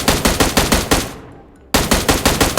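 Rapid automatic gunfire in the mobile battle-royale game PUBG Mobile, loud close bursts of evenly spaced shots that stop for a short gap and then resume, with no talk over it.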